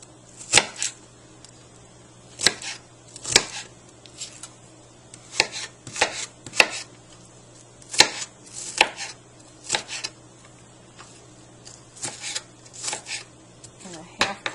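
A knife chops onion into small pieces on a cutting board in a home kitchen while lasagna with meat is prepared, giving irregular bursts of sharp, close taps with short pauses between them.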